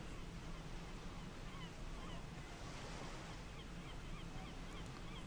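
Steady ocean surf washing in a continuous wash of noise, with a faint bird call or two near the end, no voices over it.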